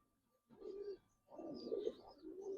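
Giribaz and Hurricane pigeons coo at a bird market, two soft throaty bursts with a short pause between them, fairly close.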